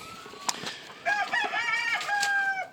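A roundhead cross stag rooster crows nearby with a couple of drawn-out, wavering calls, one after another, clear and fairly loud against a quiet background.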